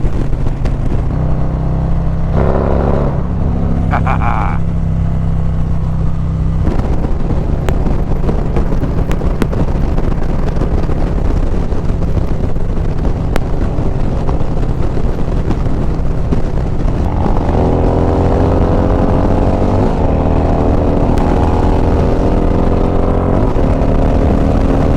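A Harley-Davidson motorcycle fitted with a stage 2 exhaust rumbles loud and close, its deep engine note swelling and dropping through several revs against steady wind buffeting on the microphone.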